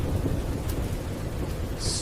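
Steady rain falls as a dense, even hiss with a low rumbling underneath, continuous and fairly loud throughout, with no voices.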